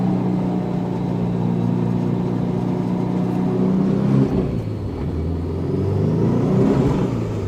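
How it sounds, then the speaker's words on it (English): A BMW G30 sedan with a 2.34-litre engine on flex fuel, running a Link G4x ECU, drones and revs steadily from inside the cabin. A loud whining, angry differential and gearbox noise rises and falls with engine speed, with no talking. "Boy, that diff is angry."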